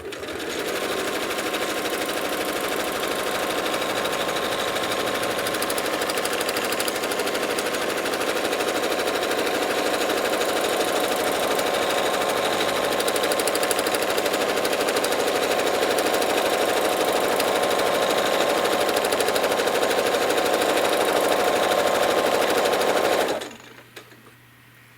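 A sewing machine quilts a spiral pattern on a quilt, its rapid needle hammering in a loud, continuous buzzing run that holds steady for a long stretch before abruptly stopping, with nobody speaking.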